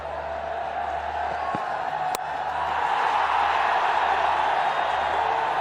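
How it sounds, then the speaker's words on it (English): Cricket crowd cheering after three back-to-back sixes in a Pakistan versus West Indies match, a broad sustained roar that swells and grows louder, with one sharp crack partway through. "this crowd is celebrating a couple, in fact 3 brilliant strikes"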